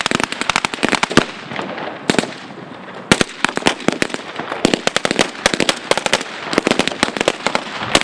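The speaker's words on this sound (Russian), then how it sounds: "И хотя это была всего лишь имитация боя, и все патроны были холостые" Blank rounds are fired in a staged hostage rescue demonstration, a rapid, irregular string of loud sharp cracks and bursts going off close by for the whole stretch with almost no pause.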